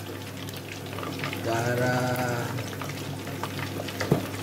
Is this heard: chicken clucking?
no